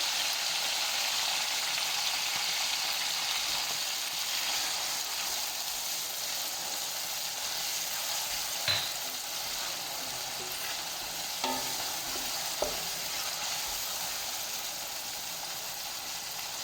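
A pan sizzles with tomatoes and ginger garlic paste, a steady, soft frying hiss throughout, broken by a couple of faint clinks from stirring.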